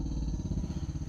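A Morris 1300's original SU electric fuel pump runs after the key is turned, giving a steady close-up mechanical buzz with a rapid ticking pulse throughout.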